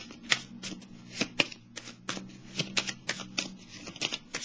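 Tarot cards are shuffled and set down on a table during an astrology reading, a close run of crisp flicks and soft slaps with sharper taps as individual cards land.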